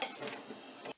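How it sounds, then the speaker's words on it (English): A utensil stirs spaghetti sauce ingredients with Italian seasoning in a crock pot, making a brief, faint scraping clatter against the pot for about a second. "we're just going to give this a quick stir"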